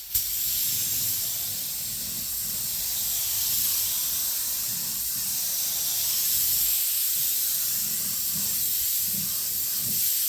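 A spray gun lays a coat of paint during rust repair on a 2018 Ford Escape, giving a steady, close airy hiss that holds evenly for the whole stretch with no talk.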